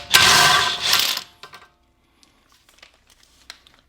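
Rapid ratcheting burst from a wrench loosening a 17 mm bolt on the sway bar of a B5 Audi S4, about a second long and close, followed by light metallic clicks and handling.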